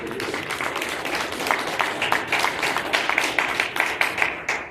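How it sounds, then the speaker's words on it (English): Sustained applause fills a room at a political training event, dense steady clapping that swells slightly and continues to the end. "One more round of applause for our previous speaker and to Vanessa for organizing tonight"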